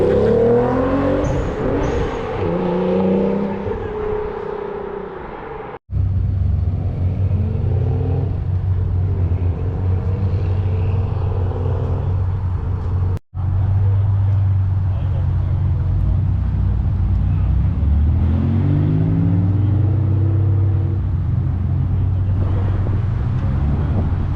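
A twin-turbo Nissan 300ZX widebody build revs repeatedly at a show in Peterborough, its loud engine rising and falling in bursts with two brief cuts, while people talk over it.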